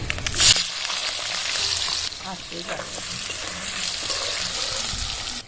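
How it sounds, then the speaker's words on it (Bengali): Chopped potatoes drop into hot oil already tempered with nigella seeds and dried chilli, starting with a loud splashy burst and then settling into a steady, dense sizzle with occasional stirring scrapes. "কুচনো আলুগুলো তেলে দিয়ে দিচ্ছি এবার"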